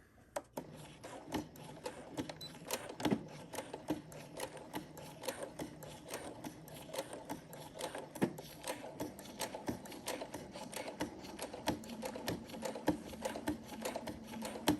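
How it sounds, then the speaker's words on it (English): A sewing machine stitches a zipper pouch, running in steady rapid bursts of mechanical clatter with brief stops and restarts for forward and reverse stitching, close and alone without talk. "we're gonna stitch forward and reverse, and we're gonna stitch on down"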